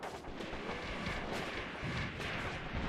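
Artillery fire in the war game Graviteam Tactics: Mius Front: a continuous rumbling barrage of deep booms and distant blasts rolling together without pause.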